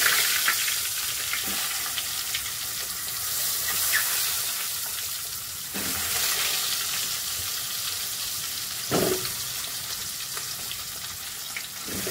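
Peeled boiled eggs fry in oil with turmeric for egg curry, giving a continuous bright sizzle with occasional louder spits and pops as they settle in the pan.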